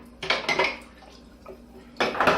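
Dishes, pots and cutlery clatter in a home kitchen during a big cleanup, with sharp bursts of clinking and knocking in short clusters, close and loud, separated by quieter gaps.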